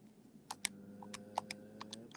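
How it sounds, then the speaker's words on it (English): Numbers are punched into a calculator during a math problem, a short run of light, quick button taps against a quiet background hum. "type that in my calculator here"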